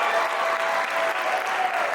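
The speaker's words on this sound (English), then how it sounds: "would we give another round of applause for the Caleb and Mr." A live-stream audience breaks into a steady, dense round of applause, a continuous wash of clapping from a crowd.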